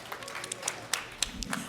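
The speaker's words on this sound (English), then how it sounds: "give yourselves a round of applause" A conference audience at a summit welcome and keynote applauds briefly, giving scattered, fairly soft claps across a roomful of people, heard at a moderate distance.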